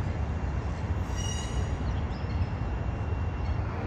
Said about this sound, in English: Can't tell you the last time a caboose went over that bridge.